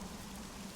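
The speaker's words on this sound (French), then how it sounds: "Oh, il pleut beaucoup trop!" Cartoon sound effect of rain pouring down heavily, a steady, even hiss of falling drops that holds at a low level with no voices over it.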